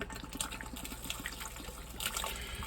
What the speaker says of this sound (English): Pour in the whole bottle.